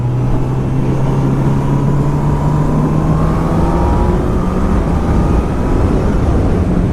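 A 2019 Honda CB1000R Plus motorcycle with a Termignoni GP2R exhaust pulls hard on a country road, its engine note climbing steadily in a loud, continuous drone with heavy wind rush.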